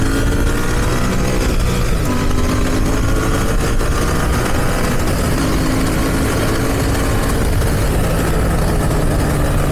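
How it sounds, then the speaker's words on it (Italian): A Royal Enfield Bear 650 motorcycle engine roars loud and close throughout, a dense, steady rumble with rising tones as it accelerates, with no talk over it. "Io direi di provare anche una bella accelerata,"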